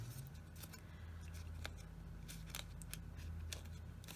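Scored card stock is folded by hand for a fan card, making soft, close crinkles and sharp little creasing clicks spread irregularly over a quiet background.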